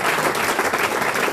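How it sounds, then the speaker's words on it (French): Studio audience of a radio comedy panel show applauding loudly, a dense close wash of clapping from a crowd, brief and sustained with no speech. "on applaudit encore Christine"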